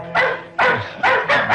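Dogs bark loudly and close by in four sharp bursts, each bark ringing out briefly, with no talking over them.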